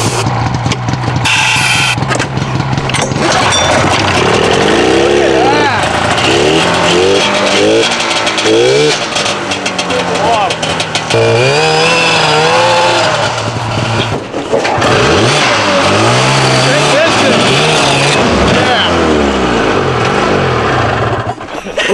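An old snowmobile engine fires on starting fluid after a pull, then runs loud and ragged, revving up and down in uneven surges outdoors in deep snow, with voices briefly under it.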